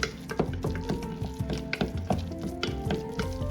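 Spiced fajita sauce with red paprika, black pepper and cayenne sizzles over medium heat on a Blackstone griddle, crackling and bubbling close up in quick irregular pops with repeated scraping strokes.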